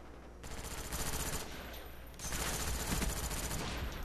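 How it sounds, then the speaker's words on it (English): Bursts of rapid automatic gunfire ring out during a video game free-for-all match, two sustained volleys separated by a brief lull, loud and close with no talking. "Oh, that was a bad gunfight right there."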